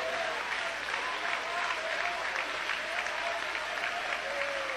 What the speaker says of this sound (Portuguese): batam palmas e glorifiquem ao Senhor